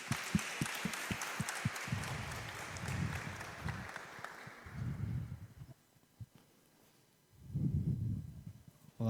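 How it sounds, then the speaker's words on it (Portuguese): A workshop audience gives a short burst of clapping with distinct individual claps that fades after about two seconds, followed by quiet low voices and room noise. "Uma salva de palmas,"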